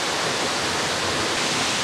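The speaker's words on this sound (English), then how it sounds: "So we're standing here at Glencar Waterfall, and it's a stunning, beautiful spot." Glencar Waterfall in County Leitrim, Ireland, pours in a steady, dense rush of falling water, a broad continuous roar close by with no voices over it.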